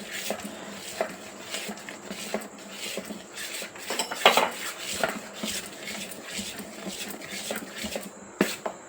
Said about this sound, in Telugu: ఒకసారి పిండి అంతా కలిసేలాగా కలుపుకొని